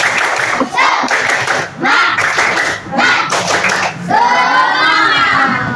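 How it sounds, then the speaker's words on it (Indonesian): Pupils in an elementary classroom clap in unison through a short rhythmic cheering routine, several loud clap bursts with a group chant, then voices carrying on after the claps stop. "Tepuk semangat."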